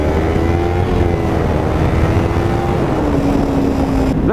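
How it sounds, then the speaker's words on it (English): A Husqvarna supermoto with an Akrapovic exhaust revs hard and close, a loud continuous engine roar holding throughout with pitch shifts near the end. "Rev bombing, yeah. Gotta love that Krapovic."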